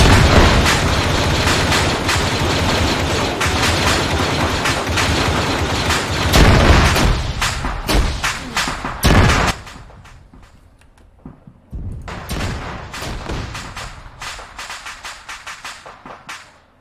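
Rapid automatic gunfire in the Arma 3 military shooter, a dense sustained barrage for about ten seconds with sharp crackling bursts, then a brief lull before more scattered shots and rumbling fire resume.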